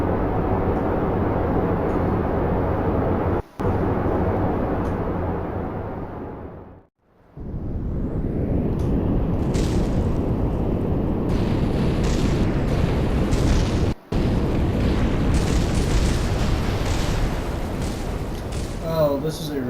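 Rocket engines roar in a space flight game, a dense, loud, sustained rumble that cuts out briefly twice, swells back, and ends in crackling blasts as the vessel breaks apart.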